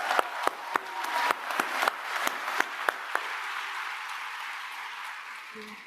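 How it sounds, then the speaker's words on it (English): Audience applause fills the hall at a World Food Forum closing ceremony, a burst of clapping that peaks early and then fades to a softer, sustained patter near the end. "a big round of applause"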